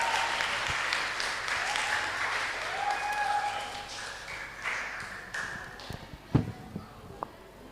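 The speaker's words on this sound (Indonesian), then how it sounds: "Sekali lagi kita berikan tepuk tangan yang meriah buat duet perempuan." At a Christmas church service, a congregation gives a women's duet a round of applause that starts full and gradually thins into a few scattered, separate claps, while brief tones ring faintly underneath.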